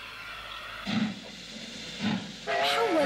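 Steam train in a children's cartoon releases soft bursts of hissing steam, then a bright whistle rises near the end, all fairly faint with no talk.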